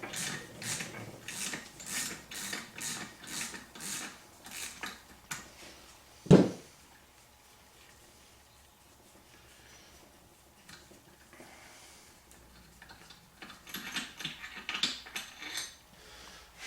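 Rhythmic ratchet clicks from a Time-Sert E-Core insertion tool being backed out of a repaired M8 thread in a 2006 Arctic Cat 650 H1 crankcase, with one sharp metallic knock, a quiet pause, then more clicking.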